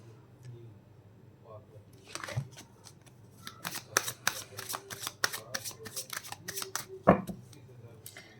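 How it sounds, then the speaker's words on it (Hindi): Tarot cards being shuffled and drawn from a deck during a reading, a dense run of quick crisp riffling flicks and snaps building from about two seconds in, fairly close, with a faint voice underneath. "अभी मैं दूसरे डेक से कार्ड निकालती हूँ"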